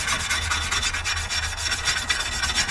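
A plastic razor blade scrapes old gasket material off an aluminum oil pan from a Toyota 22RE engine, giving a continuous close rasping scrape with quick repeated strokes and no talking.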